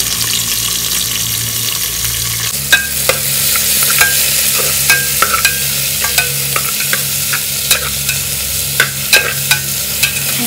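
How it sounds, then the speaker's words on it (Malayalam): Sliced onions sautéing in a pan for chicken gravy, an even loud sizzle punctuated by repeated scraping stirs of a spoon against the pan, alone without speech. "സവാള ചേർത്ത് നന്നായി വഴറ്റിയെടുക്കുക"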